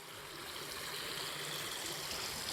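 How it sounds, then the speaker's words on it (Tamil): Water surges and churns continuously through a village canal, a steady broadband rushing and gurgling roar with no voices over it. "பாருங்கள் எப்படி பொங்குது பாருங்களேன் தண்ணி, அந்த அளவுக்கு பொங்கிட்டு வருது."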